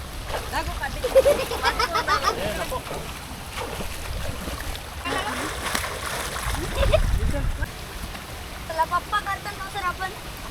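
Water splashing and sloshing in bursts, with children talking and shouting over it, plus a low rumbling swell near the middle.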